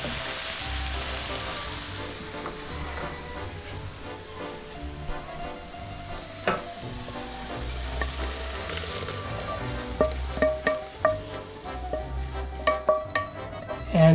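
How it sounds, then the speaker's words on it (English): Wine cooks down in a pan for an Italian dinner, giving a steady close sizzle and bubbling throughout, with occasional stirring clicks and scrapes growing more frequent toward the end. "And let that wine cook down."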